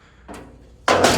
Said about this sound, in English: knocked the door over